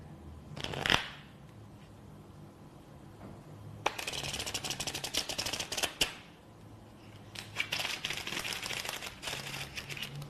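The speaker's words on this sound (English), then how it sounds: "Start by riffling half the cards in both hands, as you would do for a normal in-the-hand shuffle" A deck of playing cards is riffle shuffled in the hands: a sharp snap first, then two bursts of fast, fluttering card riffles, fairly close and distinct with no talking.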